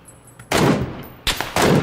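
Loud bursts of gunfire in PUBG (PlayerUnknown's Battlegrounds), three separate volleys of rapid shots, the first lasting most of a second, then two shorter bursts in quick succession near the end.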